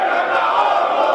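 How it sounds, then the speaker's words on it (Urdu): Parliamentary crowd chanting slogans in unison during President Asif Ali Zardari's speech, a loud, dense, continuous roar of massed voices filling the chamber without a break. "آج صدر آصف علی زرداری جب تقریر کر رہے تھے تو آپ یہ نعرے سن سکتے ہیں"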